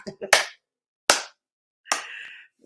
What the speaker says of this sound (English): Oh, slow clap.